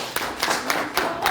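A conference audience in a hall, asked for a single clap, answers with a few separate sharp clap bursts in a loose rhythm rather than one unified clap, fairly close and fairly loud.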